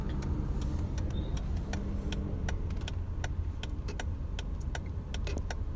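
A Honda City ZX creeps forward in first gear with no acceleration, its low steady engine hum running throughout beneath a regular ticking, likely the indicator.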